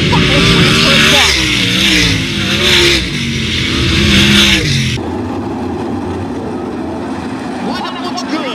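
Sprint cars at a heat race roar past with loud, continuous engine noise that rises and falls with revving, giving way to a steadier, more distant rumble, with a voice over the public address.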